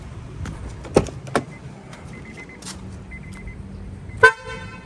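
A Flosser aftermarket horn on a 2010 Honda Civic FD sounds once, a short loud blare near the end after a few faint clicks and thumps.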